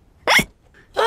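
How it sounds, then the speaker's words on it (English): Cartoon pig hiccups, two sharp, close hiccups spaced about half a second apart, loud and alone. "and now he has hiccups."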